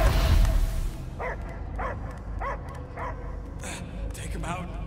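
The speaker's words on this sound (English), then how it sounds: "I hear only barking." Dog barking in the Guardians of the Galaxy video game, several short yips and barks in a steady series after a loud opening burst, heard under game music and background sound.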